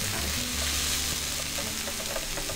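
Pumpkin and sausage sauté in a pan with a dense, loud, steady sizzle and a few light scraping stirs, with a low hum underneath.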